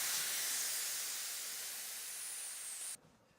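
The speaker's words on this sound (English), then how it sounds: "So I'm just going to let the air out." Air hisses steadily out of the tubeless valve of a Continental GP5000 TL bicycle tyre, a close, strong rush that fades slightly and then cuts off abruptly near the end.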